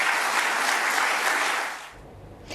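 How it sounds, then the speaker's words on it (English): An audience at an awards event breaks into loud, dense applause that runs steadily for about two seconds, then cuts off abruptly into near silence with a faint stray sound after. "that deserves a hearty round of applause"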